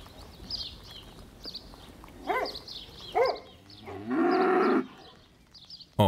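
Hungarian cattle in a herd at an Őrség national park pasture, with a couple of low moos standing out against a steady rural background and one long, loud, sustained bellow midway through.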